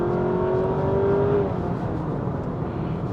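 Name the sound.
Honda Accord RS e:HEV hybrid car accelerating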